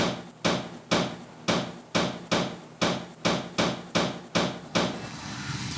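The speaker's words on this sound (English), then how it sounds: "Just tapping on the outside, make sure that is seating fully around the pinch weld." Rubber windshield weatherstrip gasket being tapped into place around the pinch weld of a 1961-1966 Ford truck, about a dozen evenly spaced firm thumps in a steady rhythm, close and loud.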